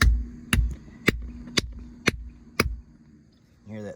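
A hand slaps a giant pumpkin five times at an even pace, each slap a loud, deep, resonant thump with a short reverberant tail. A brief voice follows at the end.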